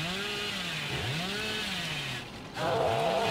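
A chainsaw in Dead by Daylight revs loudly and continuously, its whining engine note rising and falling in pitch, with a brief dip near the end before surging again.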